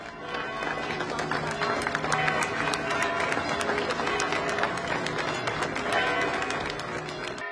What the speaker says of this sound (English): As the coffins arrived, there was a ripple of applause outside the Igreja Matriz de Gondomar.